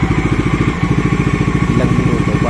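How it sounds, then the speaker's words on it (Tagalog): A Kawasaki Bajaj Dominar 400 motorcycle engine runs after an oil change, a steady rapid low thumping idle up close, with no talk over it. "Susubukan naman nating paganahin ng motor ng"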